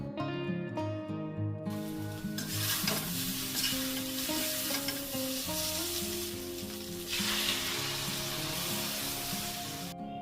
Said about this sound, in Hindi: तो इसको 2 मिनट के लिए स्लो गैस पे इसको भून लूँगी इसी मसाले के साथ में